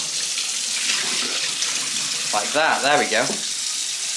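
Water from a car's windscreen washer system rinses and sprays steadily, a continuous watery hiss filling the clip, while someone speaks briefly over it near the end.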